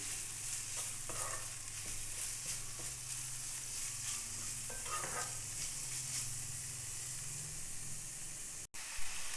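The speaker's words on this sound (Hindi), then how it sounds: "दो से 3 मिनट चिकन को भूना मैंने" Salted chicken pieces stir-fried in a hot pan, a continuous close sizzle and hiss with scraping strokes of a spatula stirring at irregular intervals, with no voices.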